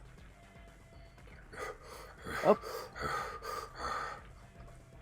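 A game master's voice imitates heavy breathing at a tabletop fantasy session, a few breathy gasping huffs close up, with a short spoken exclamation.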